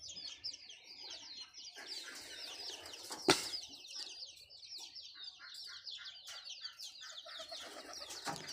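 Native pigeons at a small pigeon farm, with a steady chorus of bright, chattering bird calls, a sudden burst of flapping wings in the middle, and further wing flutters throughout.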